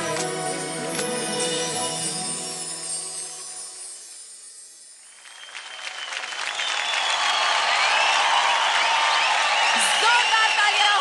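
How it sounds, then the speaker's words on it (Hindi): Studio audience on a televised dance competition bursts into loud applause and cheering for a dancing couple's performance, rising after a song fades out and swelling into a dense, sustained ovation with whoops. "जोरदार तालियां हो जाए अभिनव और संगीता के लिए"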